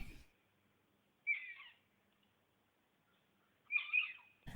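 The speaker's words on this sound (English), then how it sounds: "That noise you hear in the background is an otter." A captive otter cries in two high, chirping bursts from its pen, each followed by quiet, heard alone at moderate distance.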